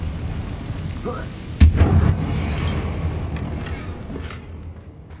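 A single Confringo fire spell blast in Hogwarts Legacy strikes sharply and loudly, then trails off into a rumbling, crackling decay over steady game ambience.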